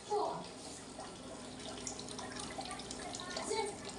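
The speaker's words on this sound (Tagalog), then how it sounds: "tapos lagyan natin uli ng tubig yan." Water splashes and trickles into a container holding tubifex worms, a soft, uneven pouring sound with a few brighter splashes near the start and end, fairly faint.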